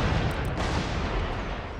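Cannons firing roundshot in a Russian-faction battle in Empire: Total War make a dense, continuous rumbling roar of overlapping blasts, loud and unbroken throughout.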